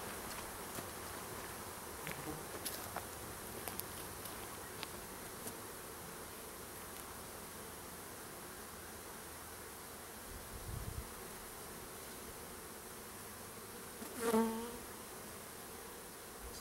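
A dense, continuous buzzing of many honey bees being installed from packages into a hive hums steadily at close range, with occasional individual insects droning louder as they pass.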